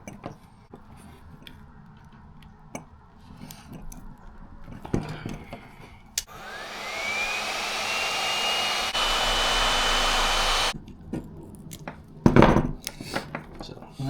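A heat gun blows with a steady, hissing roar for about four seconds while shrinking heat shrink tubing on bilge pump wiring, framed by clicks and handling knocks nearby.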